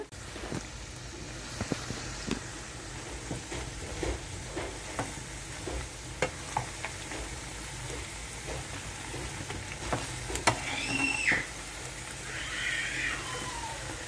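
Chicken pakoda fries in oil with green chillies, coriander and mint in a home kitchen. A faint, steady sizzle runs throughout, broken by scattered light clicks and stirring noises, with no talking.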